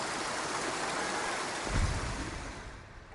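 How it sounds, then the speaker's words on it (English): Steady loud rush of flowing water in the Ghost of Tsushima game world, a constant broadband wash with a brief swell in the middle before easing slightly toward the end. "The water in this game is extremely loud."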